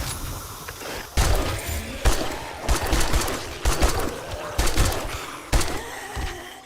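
Single gunshots from a pipe weapon in 7 Days to Die crack out one at a time, about six sharp close reports spaced roughly a second apart.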